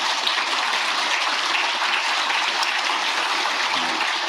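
Dense applause from an audience of senior public officials at a workshop lecture, a loud, continuous roar of many hands clapping together that holds steady from start to finish.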